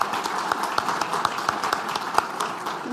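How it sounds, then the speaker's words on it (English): Conference audience gives a round of applause at the close of a session, a moderate, diffuse wash of many hands clapping for a few seconds. "Thank you, and another round of applause."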